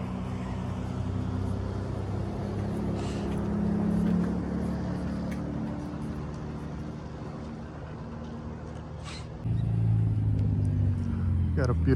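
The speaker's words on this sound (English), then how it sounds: "Got a beautiful F8 pulling up." A Ferrari F8 pulls up at a Ferrari cruise gathering, its engine a steady, moderately close rumble that swells briefly and then rises again near the end, with people talking over it.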